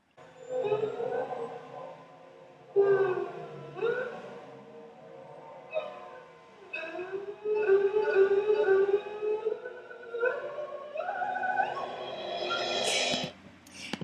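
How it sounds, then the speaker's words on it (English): Solo erhu, a fretless Chinese two-string bowed instrument, playing a slow melody of long gliding notes that slide up and down in pitch, clear and close with brief pauses between phrases. "listen to the sound of the string instrument sliding up and down"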